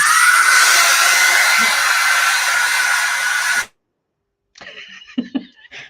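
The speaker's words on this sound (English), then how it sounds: "That is an intense dryer." A loud, steady hair dryer blows continuously for several seconds, then cuts off abruptly, followed by brief quieter sounds and a short voice.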